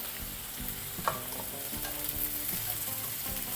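Chopped onion and green chilies fry in a pan with a steady, moderately quiet sizzle. Light stirring scrapes and small clinks of a utensil sound over it, and there is no talking.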